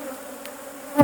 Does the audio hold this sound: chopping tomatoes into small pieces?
no